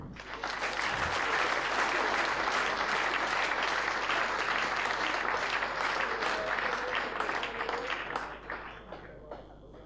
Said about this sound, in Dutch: hartelijk applaus voor deze 3 kampioenen